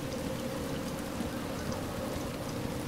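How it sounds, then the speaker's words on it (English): Rain falls in a video game, a steady dense patter and hiss that holds evenly throughout at moderate level, with no voices. "Rain on the inside."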